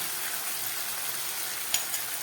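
A spoonful of tomato paste sizzles in a frying pan, a steady close hiss with a couple of sharp pops near the end and no talking.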